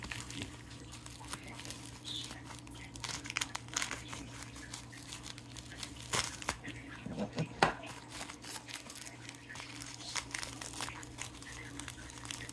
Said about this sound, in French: Un paquet dur à ouvrir